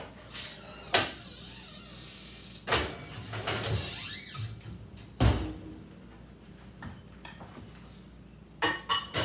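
Metal baking pans of strawberry shortcake clank and clatter as they go into a 425-degree oven, with sharp scattered knocks, an oven door thud and rack scrapes over a quiet kitchen background.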